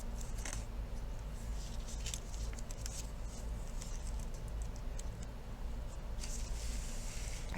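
Scissors snip paper triangles for a mixed-media shark collage, a quick run of light close crisp cuts over a low steady background hum.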